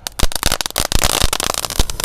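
Spinning firecrackers (gangsing) set off in a ring crackle and pop in a dense, loud, close rapid-fire barrage with sharp bursts throughout.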